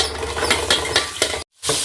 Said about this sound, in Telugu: ఇదంతా నేను పోపులు వేస్తున్నాను